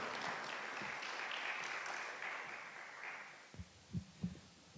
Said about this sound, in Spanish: por favor, démosles un caluroso y fuerte aplauso